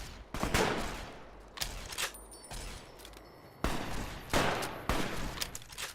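Heavy .50 cal rifle shots in Fallout Tale of Two Wastelands, several loud, sharp blasts spaced unevenly across the stretch, each with a brief echoing tail, no talk over them.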